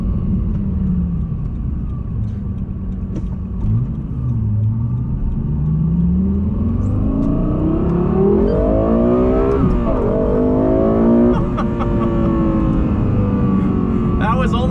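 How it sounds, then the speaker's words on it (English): A Lexus LFA V10 supercar on the road at about half throttle, its engine rising in a rapid climbing rev with a loud, rising howl that swells and falls through gear changes, heard from inside the car. "About half throttle just to get used to those tires, but oh my gosh, did those RPMs climb fast. That noise."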